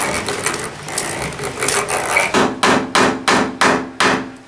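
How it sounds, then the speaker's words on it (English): A Japanese Funate hammer drives nails into cedar boards, a run of about seven sharp, evenly spaced close strikes that follows a stretch of rougher tapping and handling noise. "this particular kind of hammer, this is called a Funate hammer"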